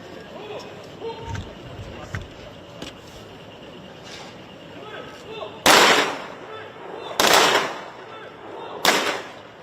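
Three loud gun salute volleys at a Korean state funeral for a former prime minister, evenly spaced sharp blasts over a quiet outdoor hush with faint ambient sound between them.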